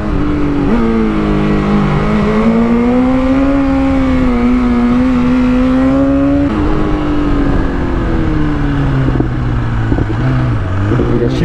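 A BMW S1000RR sport motorcycle's engine drones loud and close while riding, its pitch climbing steadily then dropping with quickshifter gear changes, the rumble continuous under the wind.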